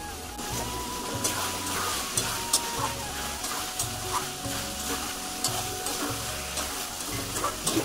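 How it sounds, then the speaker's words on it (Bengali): Chicken cooks in a pan with pre-fried potatoes while being stirred: a soft sizzle runs under regular scraping strokes of a spoon, fairly close and moderate in level, with no talking. "এখন রান্নাটা বসিয়ে দিয়েছি, চিকেনটা আমি বসিয়ে দিয়েছি।"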